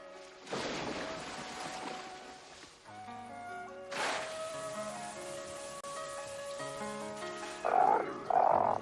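Frogs croak in loud, separate bursts over a sustained tonal hum, with two sharp croaks close together near the end.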